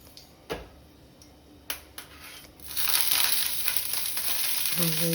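Cumin seeds and green chillies dropped into hot oil for a simple lunch box recipe, a few faint taps first and then a bright, steady sizzle that carries on to the end.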